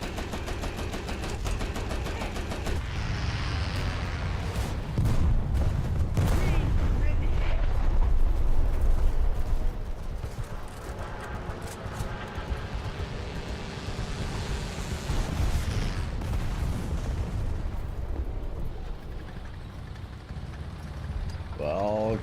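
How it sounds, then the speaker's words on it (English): A tank fires shells in a video game battle, deep booming blasts and rumbling impacts spread across a noisy battlefield mix, with a person talking over much of it. "Stop shooting at me. You evil, evil tank."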